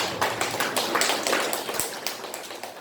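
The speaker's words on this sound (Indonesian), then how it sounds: "tepuk tangan" A church congregation at a Sunday worship service claps in a brisk, uneven patter of hands, moderately loud and fairly close, lasting a few seconds.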